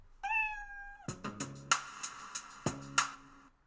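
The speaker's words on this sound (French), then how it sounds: "j'ai cliqué sur le drapeau vert, il a fait miaou" A single drawn-out synthetic cat meow plays from the mBlock coding app, followed by a short plucked melody of bright notes, clean and close with no talking.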